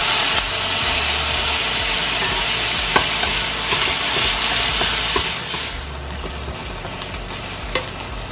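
Beef stir-fried in a pan over medium heat while it loses its pink color, a steady loud sizzle with occasional stirring clanks, no talking.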